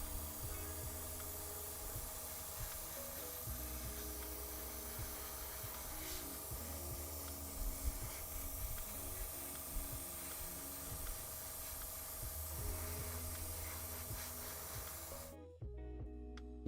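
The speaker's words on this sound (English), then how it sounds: "It's so satisfying using the airbrush." An airbrush sprays primer onto Warhammer Skaven miniatures, giving a steady, continuous hiss with a faint low hum underneath. It runs for about fifteen seconds and then cuts off abruptly.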